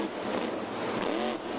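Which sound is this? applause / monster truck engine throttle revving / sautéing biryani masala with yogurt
monster truck engine throttle revving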